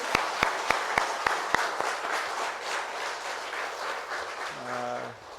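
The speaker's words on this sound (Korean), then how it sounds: "하나님 앞에 큰 감사와 영광의 박수 올려드리겠습니다." A church congregation claps during a Sunday worship service in thanks for the church's 72 years, beginning with several sharp, evenly spaced claps that swell into steady, full applause before a voice speaks at the end.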